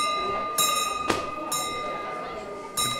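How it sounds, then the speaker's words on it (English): A bell at a Hare Krishna temple rings three times with bright, sustained metallic tones, spaced about a second apart, close and fairly loud, with a short clank between the first two strikes. "The bell works."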